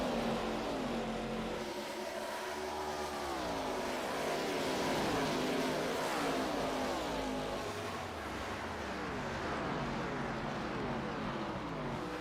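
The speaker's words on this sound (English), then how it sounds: "you can hear it in the sound of the engines, like just when they come around the turn" Multiple ARCA Series race car engines in a sim racing game coast through a turn at Nashville Superspeedway. Their droning tones rise and fall in overlapping sweeps as the cars pass, continuous and fairly loud.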